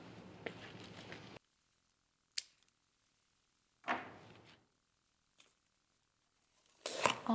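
Snips from cutting a variegated Alocasia or Philodendron vine: one sharp click, then a brief rustle and a second faint snip, with quiet gaps between and a louder rustle at the end.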